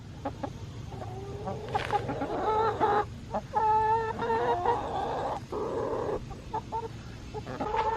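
Several chickens clucking and calling in a garden, bursts of cackling fowl voices near and fairly loud, with pauses and a dog sound mixed into the background.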